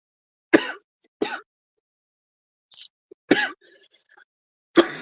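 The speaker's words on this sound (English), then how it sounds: "cough, cough, cough." Several sharp coughs, close by, in irregular bursts with short silent gaps between them; a couple are single hacks, others come in quick pairs.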